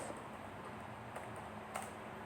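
Light, continuous keyboard typing on a computer while entering a database query, steady soft clicks with a few sharper keystrokes, close and quiet with no talking.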